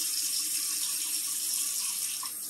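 Water runs steadily from a kitchen tap to rinse an eye round roast, a close, continuous hissing splash with no talking.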